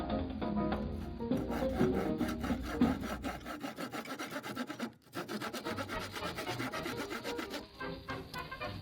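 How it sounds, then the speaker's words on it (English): Painted Art Deco furniture pieces are cut apart with a jigsaw and handsaw, giving close, rhythmic rasping strokes through wood that continue nearly throughout, with a brief pause in the middle. "Usually we'll use a combination of the jigsaw and a handsaw as needed to separate these pieces."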